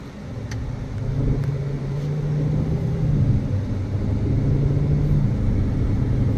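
2018 Aston Martin DB11 with about 34,000 miles on a test drive, a steady low engine and road rumble from inside the cabin, rising slightly as it pulls ahead, no talking.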